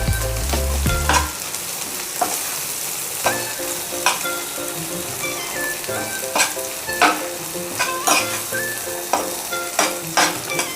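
Mung beans cooking in a pan with turmeric give a steady frying sizzle, broken by repeated loud scraping stirs and clinks toward the end, close up with no talking.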